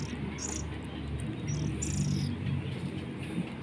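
A tame oriental magpie-robin chirps outdoors among rambutan and guava trees, giving short high bright calls that come and go over soft insect and cricket buzzing, fairly faint and without talk.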